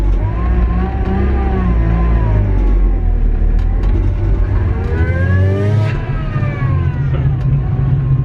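A Mazda Miata engine revs repeatedly, loud and close, with rising and falling rasping exhaust tones sweeping up and down over a deep rumble, no talk.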